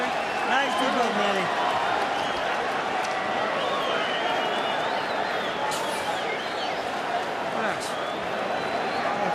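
A Mexican crowd at a boxing fight roars and cheers steadily throughout, a dense sustained arena din with a voice talking over it.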